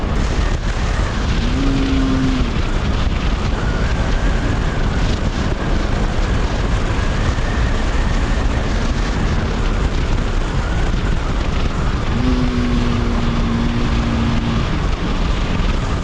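A motorcycle engine-braking while downshifting produces a constant close engine roar with wind noise, and its revs rise and fall briefly as the gears drop.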